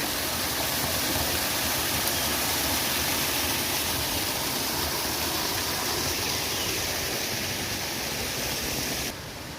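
A waterfall stream at a hillside temple in Saraburi, Thailand, gives a steady, loud rushing of water close by that continues unbroken, dipping slightly at the very end, with no talk.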